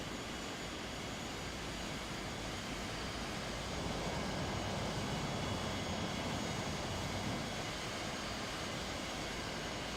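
Learjet 45 jet engines taxiing in a flight simulator, a steady broadband roar that swells slightly midway and holds at a constant loud level throughout.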